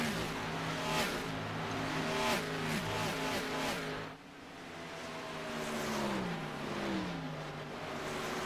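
Xfinity Series stock car engine roaring in a racing video game at Indianapolis Motor Speedway, loud and continuous with rising and falling revs, a brief dip midway, then climbing again as it accelerates.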